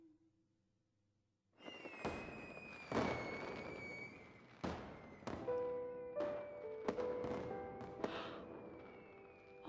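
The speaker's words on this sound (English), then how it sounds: "The night sky was suddenly lit up by the stashed fireworks." Fireworks in the game Honkai Impact 3rd burst over a bamboo grove at night, a string of sharp, loud cracks and booms with crackling trails and ringing tones between them, coming in quick succession after a brief quiet start.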